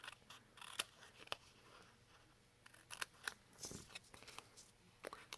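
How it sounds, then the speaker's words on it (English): Scissors snip through glued paper pieces in a run of short, crisp cuts with pauses between them, fairly quiet and close, with no talking. "So I'll use my scissors."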